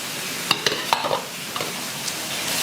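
Fish sizzles steadily in a hot pan for a fish curry, with a few sharp scraping stirs and utensil clicks cutting through the close, hissing fry.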